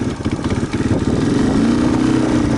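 A Yamaha 225DX three-wheeler ATV engine pulls away through its automatic clutch, a loud, close motor rumble that climbs steadily in pitch as it revs into second gear.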